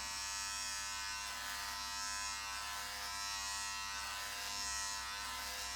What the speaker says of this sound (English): you're literally just going over all the hair until you've covered it with your trimmer